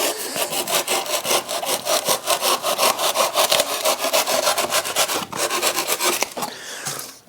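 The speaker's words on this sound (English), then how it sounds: "the reason for that is because I'm sawing with a saw-edged knife" A saw-edged knife sawing through XPS foam board, a continuous close rasping scrape with steady back-and-forth strokes throughout, loud and without talk.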